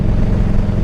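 A 1984 Harley-Davidson FLT Tour Glide engine while riding, a loud, steady low rumble with constant wind and road roar and no pauses, heard up close.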